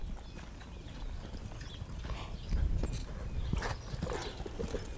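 A horse trots on the ground with a soft, rhythmic clip-clop of hooves and some breathing, heard at a moderate distance and fairly quiet, with no talk.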